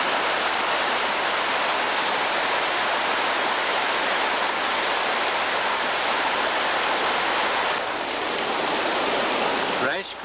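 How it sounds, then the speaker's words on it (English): Rice Creek Falls in Delhi Township, Redwood County, rendered as a steady, loud, broadband rush of falling water that fills the whole stretch without a break. "Rice Creek Falls is in Delhi Township, Redwood County, near the small town of Delhi."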